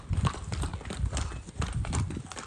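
Horse hooves clip-clop in a steady, close rhythm on a ranch, each strike distinct and fairly loud with no voices over them.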